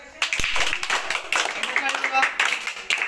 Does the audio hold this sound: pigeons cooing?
no